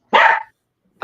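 A puppy gives one loud, close bark lasting about half a second, followed by a pause and the start of a second bark. No one speaks.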